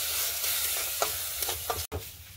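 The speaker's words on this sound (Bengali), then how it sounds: "এবার কিন্তু ভালো করে চাল আর ঘিটাকে নেড়ে নেব।" Rice frying in ghee in a wok is stirred, giving a soft, steady sizzle with a few scraping strokes spread across it and a sharp brief break near the end.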